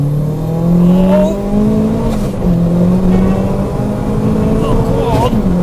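A Ford Fiesta with a swapped engine pulls hard under acceleration, its engine note rising and holding loud and close throughout, while people talk over it.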